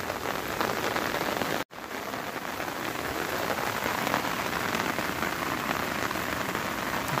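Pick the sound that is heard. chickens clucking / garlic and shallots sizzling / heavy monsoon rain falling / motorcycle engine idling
heavy monsoon rain falling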